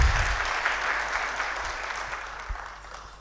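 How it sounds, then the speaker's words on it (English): A panel discussion audience applauds a panelist, a broad wash of clapping that starts strongest and slowly fades over about three seconds, with no talking over it. "Round of applause,"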